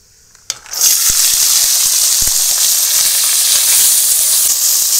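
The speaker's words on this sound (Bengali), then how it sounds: "পাঁচ ফোড়ন, দিচ্ছি ভিজিয়ে রাখা কাঁচা মটর আর মটরশুঁটি" Soaked raw peas and green peas dropped into hot oil with five-spice (panch phoron), a loud sudden sizzle that swells within a second and then holds as a steady, close frying hiss.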